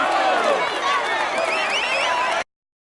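A large roadside crowd cheers and claps in the 2018 Tour de France cycling video game on PS4, a dense, continuous roar of voices and applause that holds steady for over two seconds, then cuts off abruptly.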